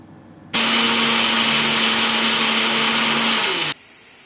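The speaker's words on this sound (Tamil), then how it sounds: "இது எல்லாத்தையும் சேர்த்து நல்லா ஃபைன் பேஸ்ட்டாக அரைச்சி எடுத்துக்கோங்க" A mixer grinder whirs loudly at full speed for about three seconds, grinding spices into a fine paste, starting and stopping abruptly, with a steady high-pitched motor whine.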